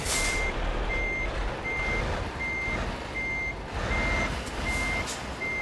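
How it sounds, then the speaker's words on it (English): Repeated truck reversing beeps from Euro Truck Simulator 2, an evenly spaced series of short tones over a steady diesel engine rumble, loud and close, with no talking. "Get it as straight as I can"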